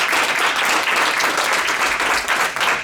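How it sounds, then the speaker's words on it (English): A seated audience at a lunchtime lecture in Detroit breaks into close, loud applause, a dense pattering of many hands that holds for a few seconds without any speech. "Let's give her another round of applause."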